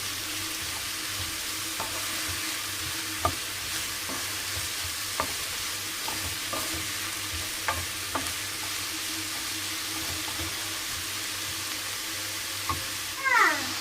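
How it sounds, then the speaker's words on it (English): Onion, mushroom, garlic and salt sauteing in a pan with a steady soft sizzle, occasional scrapes and taps of a stirring utensil, and no talk. "That is the onion with the mushroom and the garlic and some salt. Just saute everything a bit."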